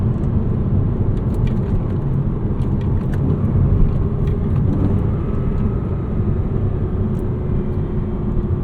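A 2009 Porsche Cayman S cruises in sixth gear, its engine a smooth, steady low drone under road rumble from inside the cabin, with occasional faint clicks and ticks over the top.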